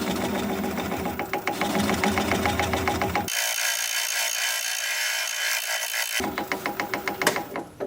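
Wood lathe spinning a red bud bowl blank at about 400 RPM, a steady mechanical whir with rhythmic ticking as the gouge cuts, briefly dropping to a thinner high hiss midway before the fuller cutting noise returns.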